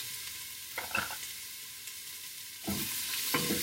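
Onions, celery and other vegetables for chicken noodle soup are stirred in a pan: a constant soft sizzle with a few scraping stir strokes, louder toward the end.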